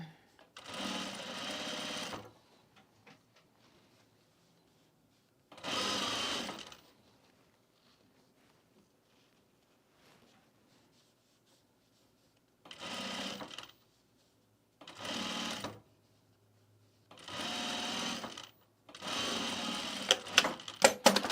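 A home sewing machine fitted with a binding attachment stitches binding onto a travel bag in six loud, close bursts of whirring, separated by quiet pauses.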